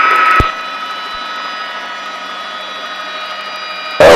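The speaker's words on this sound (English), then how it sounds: "Sedona traffic helicopter 50 Foxtrot to be departing the southwest helipad" Helicopter engine and rotor whine holding a steady high tone as the aircraft prepares to depart a helipad on a Sedona, Arizona tour, with brief clicks at the start and end.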